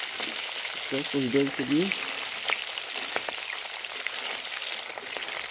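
Catfish (mangur) pieces frying in a pan, with a continuous hissing sizzle and scattered crackles throughout, close and fairly loud; a brief spoken phrase early on sits over the frying.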